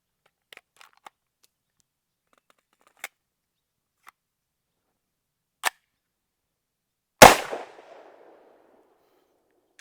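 A Tommybuilt T7, an MP7 clone, fires a single loud, sharp shot with a short ringing tail, preceded by a few faint clicks and light handling noises in an otherwise quiet setting.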